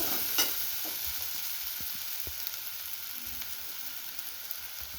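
Mint leaves roast in a hot pan for hidakavare gojju, a Karnataka field-bean curry. A soft, steady sizzle runs under light stirring taps and scrapes, close by and fairly quiet, with no voices.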